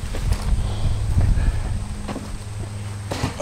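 Steady outdoor wind at a state park campsite on a hot day rumbles and buffets against the microphone, with faint low thumps and brief rustles over a continuous windy roar.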